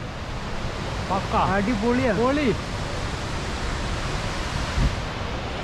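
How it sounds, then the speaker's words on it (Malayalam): A steady broadband roar of Jogini waterfall near Manali rushes close by, mixed with wind buffeting, while a person speaks briefly over it. "നമ്മളിപ്പോൾ വാട്ടർഫോൾസിന് തൊട്ടടുത്താണുള്ളത്."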